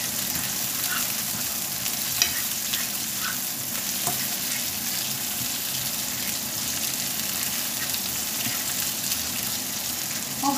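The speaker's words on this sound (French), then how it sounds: "On mélange bien, on fait tout revenir." Paella ingredients sauté in a pan, a close, steady sizzle and crackle with occasional stirring clicks running throughout.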